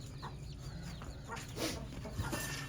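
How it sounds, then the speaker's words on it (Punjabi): Soft, scattered clucking from small bantam hens on a farm, a few brief calls over steady background noise, fairly close. "ਅੱਛਾ ਇਹ ਵੀ ਵੈਂਟਮ ਦੀ ਮੁਰਗੀ ਆ"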